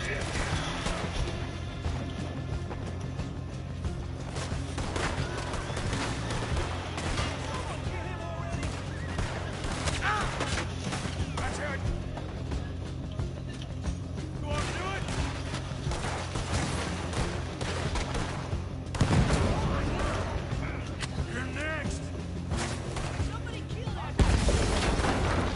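Gunfire in Red Dead Redemption 2: dense rattling shots and booms crowd a noisy game battle, continuous and loud, with a couple of sharper blasts near the end and someone talking at times.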